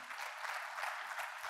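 Audience applause fills a convention session hall at a cashew industry convention in Bengaluru, a steady burst of clapping from a crowd, fairly even and continuous throughout.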